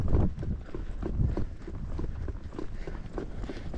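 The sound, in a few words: horse hooves clip-clopping while being ridden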